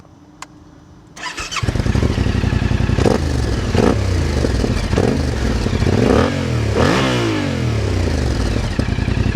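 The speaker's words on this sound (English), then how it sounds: "it's got a carbon tip, so it sounds nice and deep." A motorcycle with an aftermarket exhaust and carbon tip fires up with a clatter, then idles loud and deep with several sharp throttle blips revving up and dropping back.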